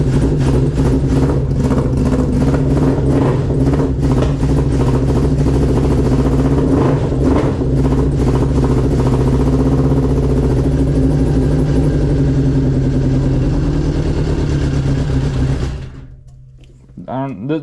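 A Yamaha RX1 snowmobile engine runs after a cold start following months parked, a loud, steady, throbbing idle with a rough, uneven mechanical chatter that continues before cutting off near the end, with a voice heard over it.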